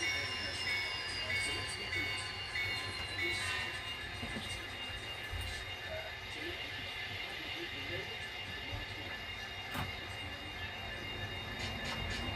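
A freight train switches at a freight terminal to couple a CSX boxcar, with low rumbling, hissing air and faint metallic clanks and squeals heard from some distance.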